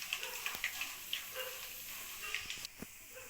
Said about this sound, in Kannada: ಕಡಲೆಬೇಳೆ ಉದ್ದಿನಬೇಳೆ ಹಾಕೊತಾ ಇದ್ದೀನಿ. ಅದನ್ನು ಚೆನ್ನಾಗಿ ಫ್ರೈ ಮಾಡ್ಕೊಳ್ಳೋಣ.